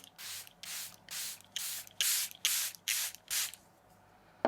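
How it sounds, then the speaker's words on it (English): Eight quick bursts of a makeup setting spray bottle in an even rhythm, close and hissy, followed by a short quiet pause. "next step, we're gonna get our setting spray"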